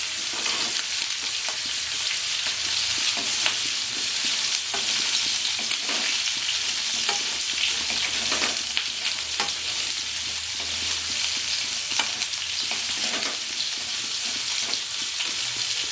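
Pointed gourds (potol) are added to a pan of frying carrots for a Bengali mixed vegetable dish, giving a steady, close, loud sizzle with occasional stirring scrapes throughout, and no voices.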